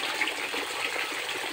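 Cold water pouring out of a spring source, a steady hissing gush, moderately loud and continuous without pause, with no voices.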